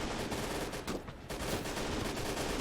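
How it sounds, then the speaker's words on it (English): Dense bursts of machine gun fire rattle through a battle in the World War II game Gates of Hell: Call to Arms, set in a 1941 Soviet defense outside Moscow, loud and continuous with a brief lull in the middle. "Damn machine guns."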